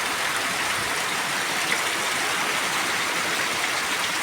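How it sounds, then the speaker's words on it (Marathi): Heavy monsoon rain pours down in Pali, Raigad, in a steady, dense hiss that never lets up, with no voices. "मुसळधार पाऊस आहे"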